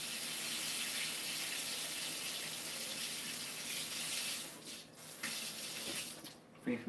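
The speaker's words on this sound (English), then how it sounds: "let me rinse this off quickly" Running tap water pours steadily into a sink while a spoon coated in chocolate shell is rinsed, a soft continuous hiss with a few brief interruptions near the end, heard fairly quietly with no talking.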